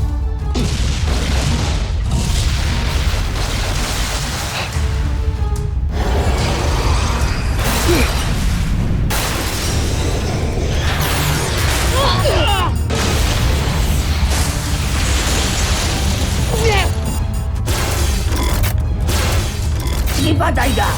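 The Voltes V bazooka fires in a sci-fi mecha battle: a dense, loud barrage of heavy booms and mechanical clanks that runs nearly unbroken for about twenty seconds, with effects layered thickly.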